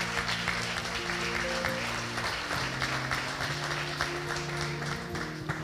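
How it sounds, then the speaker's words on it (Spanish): Congregation applauding for the tabernacle church during a funeral service, a moderate, steady wash of clapping with a low sustained hum underneath. "yo quiero que usted le dé un aplauso a la iglesia del tabernáculo"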